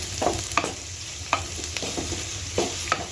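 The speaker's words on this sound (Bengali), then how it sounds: "এবার একটু নেড়ে নেব।" Chopped onion and tomato fry in a pan while a spatula stirs them, soft sizzling under several distinct scraping strokes at an unhurried rhythm, close by with no talking.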